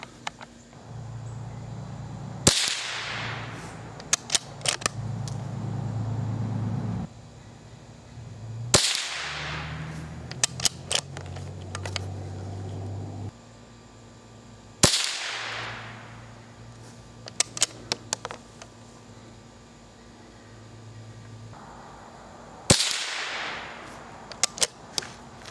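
Four loud .22 rifle shots firing Winchester Super X 40-grain copper-plated high-velocity hollow-point ammo, each a sharp crack spaced several seconds apart with a decaying outdoor tail, followed by faint metallic clicks and handling noise.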